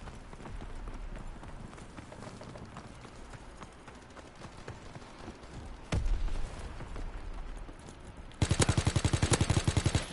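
Call of Duty WW2 gunfire: after a lull, a single sharp shot rings out, then a rapid automatic burst rattles close and loud at the end, with no talking.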